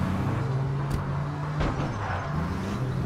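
Car engine in the video game APB Reloaded revving steadily as the vehicle drives off, a continuous droning hum with a brief higher whine partway through, no talk over it.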